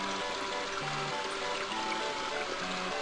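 Steady flowing water from a stream and turning water wheel in the video game King's Quest V, a continuous trickling rush at even level with faint low tonal notes, no talk.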